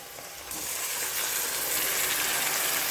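Chicken marinated in yogurt and ground spices hits a pan of fried onions and bursts into a loud, sustained sizzle that stays strong and even to the end.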